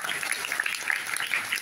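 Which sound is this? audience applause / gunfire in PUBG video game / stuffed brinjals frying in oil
audience applause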